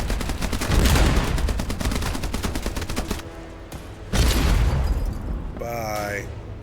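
Cannon fire from ships in the naval combat game Age of Water: loud, rapid booming volleys fill the first three seconds, then a second heavy burst follows after a pause, with a voice speaking near the end.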